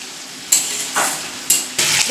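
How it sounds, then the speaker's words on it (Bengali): Spice masala for a pomfret fish curry sizzles loudly in a pan, with bursts of hiss as it is stirred four times in quick succession, close and alone. "এখন এটা একটু ভালো করে কষিয়ে তারপর মাছগুলো দিয়ে দেবো।"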